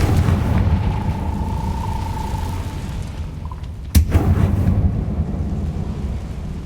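Confringo blast spell in the Hogwarts Legacy video game, a loud sudden explosive crack near the middle rising out of rumbling, booming ambience, followed by a deep rolling rumble.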